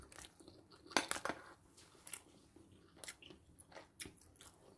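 Someone eats spicy fried squid sambal up close, with sharp bites and crunchy chewing in an irregular rhythm of short bursts, faint but clear against a quiet room, and a few light clinks of cutlery.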